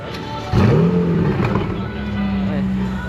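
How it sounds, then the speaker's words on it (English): A stock coupe revs its engine at a Walnut Creek car show, with one sharp throttle blip that rises and then holds at a lower drone, close by, while people talk nearby. "He's gonna rev it."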